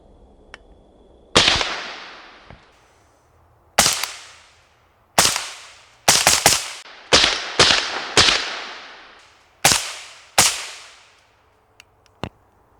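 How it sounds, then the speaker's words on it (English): Sharp cracks from a 5.56 rifle fitted with a 12-ounce titanium WhisperStrike Match suppressor, fired downrange: about a dozen loud, well-spaced single shots, each a sudden crack with a short decaying tail, some coming in quick pairs. "I'm gonna shoot them down range, and we're gonna see if we can get some sort of flash out of this thing"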